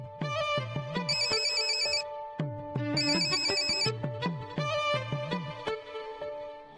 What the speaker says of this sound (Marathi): तुझ्या सासूचा फोन येऊ राहिला, घे बरं.